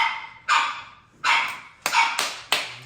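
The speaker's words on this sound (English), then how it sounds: "Sorry, my puppies are out and crazy." Puppies bark indoors, five sharp yips in uneven bursts, close and fairly loud, each ringing briefly into the room, with no talking.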